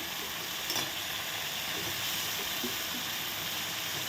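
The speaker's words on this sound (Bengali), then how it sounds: "আমি এখন একই তেলে টমেটোতেই দিয়ে দিলাম টমেটো পেস্ট দিয়ে আমি এখন ই দিয়ে দিব মটরশুঁটিগুলো দিয়ে দিব" Tomato paste and peas frying in oil in a pan give a steady, close sizzle and hiss with faint stirring, no voices.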